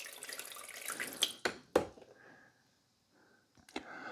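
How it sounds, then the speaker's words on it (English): Water is poured into the rear reservoir of a Cuisinart SS-12 Coffee Center K-Cup Duo coffee maker: close splashing and gurgling pours in a few bursts, a brief quiet gap, then a final short splash, with no talking. "So we got to pour the water in the back here."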